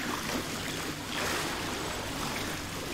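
Footsteps wading through water in the game Deliver Us The Moon: a steady, close wash of sloshing and splashing that continues without a break and without talk.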